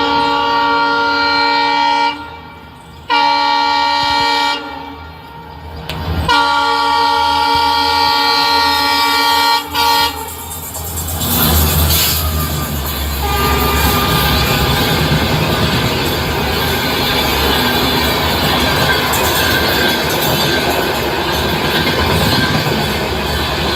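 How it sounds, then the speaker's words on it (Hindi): Train departing a station as a sound effect within a song: long sustained horn blasts with short breaks, followed by swelling rumble and clatter of rolling carriages pulling away, loud and close. "ट्रेन छूट जाती है।"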